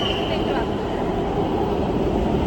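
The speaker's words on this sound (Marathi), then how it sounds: "अशा प्रकारे आम्ही मेट्रोने बसलेलो." A dense, steady rumble and whoosh fills the inside of a moving metro train carriage, and people talk over it.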